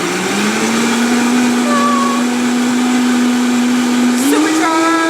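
A powerful blender purees blueberries, strawberries, banana, orange juice and water, a loud sustained whine that rises in pitch near the end as the motor speeds up.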